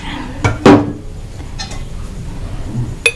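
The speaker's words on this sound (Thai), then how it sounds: "เราก็จะคนนะคะ" Stirring a Thai glass noodle salad (larb woon sen) seasoned with fish sauce in a bowl, giving a few close clinks and scrapes of utensil against the dish amid quiet kitchen background.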